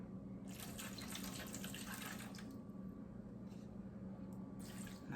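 About 1.5 cups of water pours steadily into a pan for roasting a capon, a continuous splashing, trickling fill heard up close and alone.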